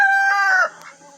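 A rooster calling to hens gives a short, loud, close call that breaks off abruptly, leaving faint background sound.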